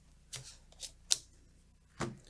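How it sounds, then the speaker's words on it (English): Playing cards dealt face down to players at a poker table, four separate quick snapping flicks spaced apart, close and crisp with no talk. "Step 11 is dealing another face down card to everyone."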